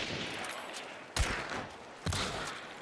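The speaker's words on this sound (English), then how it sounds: "That's also where the gunshots are" Gunfire in a multiplayer shooter video game: two sharp, loud shots about a second apart, each with a quick ringing tail, over a steady bed of in-game ambient noise.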